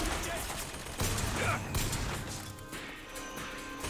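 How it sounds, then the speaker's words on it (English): Automated turret gunfire in the video game Bioshock Infinite comes in rapid, crackling bursts and sharp impacts, with a person talking over it. "Oh, I'm being fired at now again."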